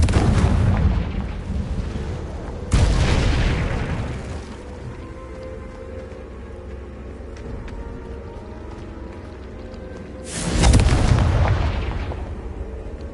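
Confringo blasting spell explosions from the Hogwarts Legacy video game, heavy booming blasts near the start and again about ten seconds in, each decaying into a rumbling roar over a low background.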